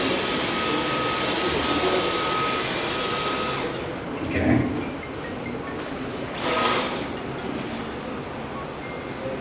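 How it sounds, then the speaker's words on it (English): A Dyson V11 Absolute cordless vacuum cleaner runs on carpet with a steady, loud whirring hiss that swells a couple of times. "So that's the Dyson V11 Absolute"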